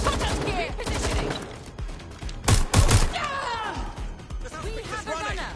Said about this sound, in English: Oh, I'm getting shot at here!